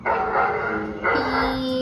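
Farm dogs that have just caught a fox attacking chicks, barking and yelping close by in a continuous loud burst.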